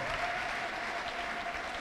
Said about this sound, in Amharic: አጨብጭቡና ሸኙዋት